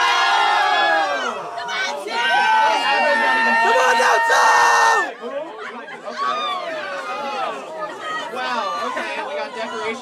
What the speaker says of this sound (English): I want to hear thunderous support from the crowd for this one, okay?